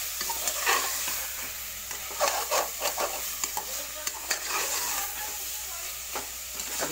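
Cauliflower masala frying in a pan for a masala egg dish, a continuous close sizzle broken by frequent scraping stirs of a spoon against the pan, with no talking.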